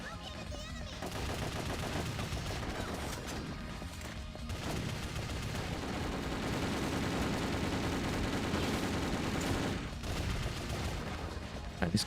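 Gunfire in the Ghost in the Shell Stand Alone Complex video game, a loud, continuous stream of rapid shots and bursts, machine-gun-like and unbroken for the whole stretch, with brief dips before it resumes.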